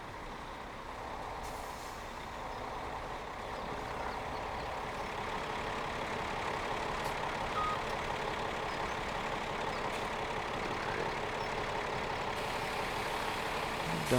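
A cart tractor engine idles in a farming video game harvest scene, a steady, droning low rumble holding level for the whole stretch with a faint hiss on top and no speech.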